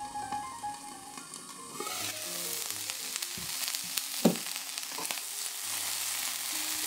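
Bean sprouts heating with sesame oil and a pinch of salt in a covered pan, a soft steady sizzle that builds and crackles faintly, with a gentle music track underneath.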